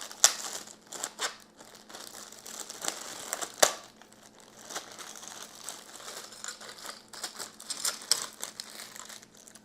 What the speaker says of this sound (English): It's bubble wrapped, and it's even plastic wrapped.